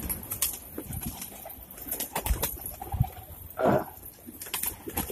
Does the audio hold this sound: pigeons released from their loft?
yes